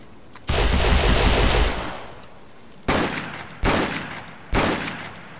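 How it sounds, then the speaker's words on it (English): Gunfire in a Wild West video game: a long, loud rapid burst of shots, then three separate single gunshots with echoing tails, close and without talking. "He's shooting at me, Paul!"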